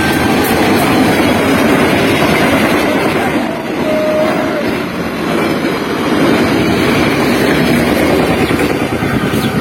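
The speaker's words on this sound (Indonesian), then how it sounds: "itu ada kereta api lewat" A train rumbles past nearby, a loud continuous roar with rhythmic clatter of wheels on rails throughout.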